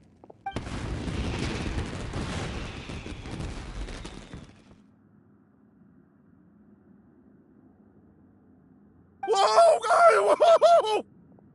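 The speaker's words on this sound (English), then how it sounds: "Yoimiya, this is turning into a bit of a fireworks display" Fireworks burst in Genshin Impact as a loud, dense crackling volley that lasts about four seconds and then fades to near silence, followed by a short bright tonal passage of game voice or music.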